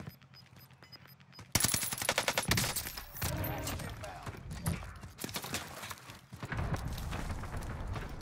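Warzone gunfire on Rebirth Island: a sudden burst of rapid automatic shots erupts after a quieter start, followed by sustained loud firing and clatter with a voice talking over it.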